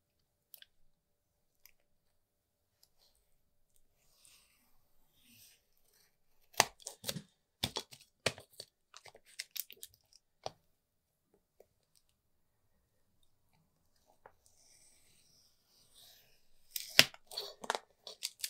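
Scissors snip through material for an LED light shadow box in several clustered bursts of close, crisp cuts, then a quieter stretch and another brief run of snipping at the end.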